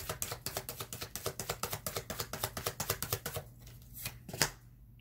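Tarot cards are shuffled in a rapid, even riffle of crisp flicks, then a few separate soft card handling taps and a slap as cards are drawn; close and moderately quiet, no speech.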